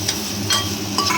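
Cashews are being stirred into pumpkin halwa in a hot pan, making a steady low sizzle with a few soft scraping strokes of the spoon.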